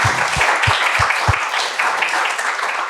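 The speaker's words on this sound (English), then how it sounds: "Please give him an applause." Applause after a keynote on artificial intelligence in toxicology. A few loud, close single claps ring out near the front, then the whole audience joins in a steady wash of clapping that fills the rest of the stretch.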